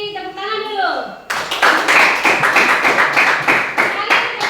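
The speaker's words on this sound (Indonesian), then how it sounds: "Tepuk tangan dulu" A junior high school class in Biak Barat breaks into lively, uneven hand clapping right after a short spoken voice and keeps it up, loud and close.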